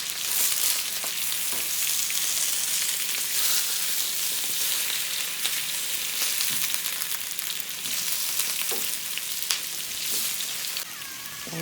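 Potatoes frying in a pan, with a loud, constant sizzle and crackle that stays steady throughout, plus a few faint utensil taps.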